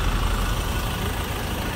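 Ford Ranger XLS 2.2 diesel pickup from 2017 idling, a low, steady engine rumble close by, even and smooth throughout the short stretch.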